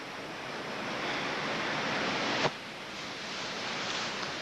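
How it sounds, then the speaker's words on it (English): Ocean waves wash steadily onto the shore in a continuous, loud roar of surf, with one brief sharper splash partway through and no voices. "You gotta look at the water, hear the waves, and relax."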